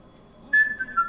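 A short, sharp whistle from enemy soldiers in Sniper Ghost Warrior 2: Siberian Strike comes in suddenly after a quiet stretch of ambience. It holds a high steady tone and then fades in a couple of lighter pulses.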